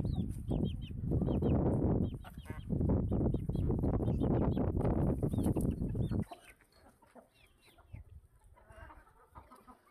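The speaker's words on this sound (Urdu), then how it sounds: "مرغیاں ماشاءاللہ مرغے مل جل کے پانی پی رہے ہیں" A flock of hens and roosters clucks steadily and busily as they drink water together outdoors, loud and close at first, then thinning to sparser, quieter clucks.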